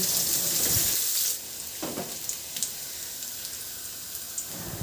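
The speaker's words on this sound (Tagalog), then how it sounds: "Magpainit na rin ako ng mantika at igisa ko na yung bawang." Garlic sautés in hot cooking oil with a bright, steady sizzling hiss that drops to a softer crackle, broken by a few light spoon clinks.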